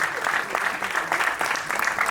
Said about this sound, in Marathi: एक तर जोरदार टाळ्या झाल्या पाहिजेत सगळ्यांसाठी